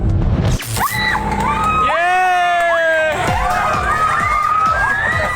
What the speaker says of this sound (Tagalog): Hiyawan at palakpakan ng mga residente nang sa wakas, nagkaroon na ulit sila ng kuryente